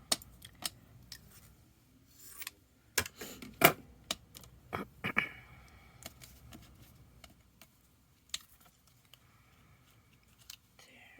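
Scissors snipping paper while making a decorated spring journal card, heard as scattered sharp clicks and cuts spaced irregularly, close up and fairly quiet, with a few brief quiet pauses between bursts.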